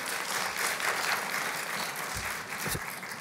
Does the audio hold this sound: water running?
no